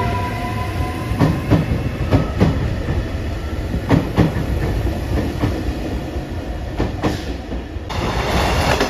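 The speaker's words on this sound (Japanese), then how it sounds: "白いアンパンマン電車。" A white Anpanman-liveried limited express train passing, with steady rumbling rail noise and a repeating clickety-clack of wheels over rail joints, loud and close throughout with no voices.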